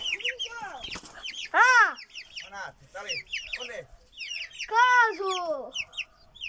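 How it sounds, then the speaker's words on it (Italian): Hens in a yard cluck and squawk in a busy, uneven series of loud nearby calls, rising into sharper bursts, while a person speaks briefly among them. "Qui vi faccio vedere le galline."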